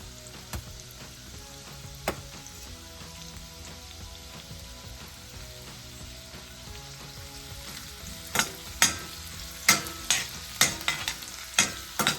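Ginger and garlic frying in hot oil, a steady close sizzle with scraping stirs, then a run of sharper clattering spatula knocks toward the end; no talking.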